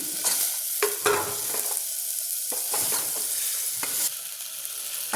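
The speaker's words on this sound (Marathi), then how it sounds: "आता ह्यामध्ये आपण काय करूया, हे छोले टाकूया. आणखी मग एकदा परतून घेऊयात." Chickpeas are stirred into oil-glossed, fried spice masala in a pan: a steady close sizzle broken by repeated spatula scrapes and pushes, with no talking.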